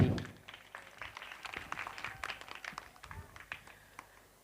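An audience at a comic poetry event claps in a loose, scattered burst of individual claps that rise and fall unevenly, fairly faint and alone.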